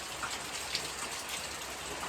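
Steady rain falls in drizzly, misty weather in southern Australia, forming an even, continuous hiss of drops with no talk.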